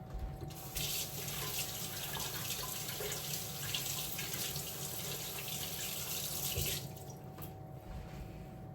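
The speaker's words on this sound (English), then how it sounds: "Rinse my hands really quick again." Running tap water pours steadily over hands being rinsed at a kitchen sink while making mini Oreo cheesecakes, a continuous broadband splash lasting about six seconds before the flow stops.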